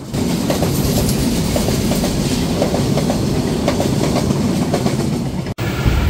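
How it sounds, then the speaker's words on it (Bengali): The Dhaka-bound intercity Kurigram Express from Kurigram passes close by with a loud, continuous rail rumble and a steady rhythmic clickety-clack of wheels. "এখানেই দেখা হয়ে গেল কুড়িগ্রাম থেকে ছেড়ে আসা ঢাকাগামী আন্তনগর কুড়িগ্রাম এক্সপ্রেসের সাথে।"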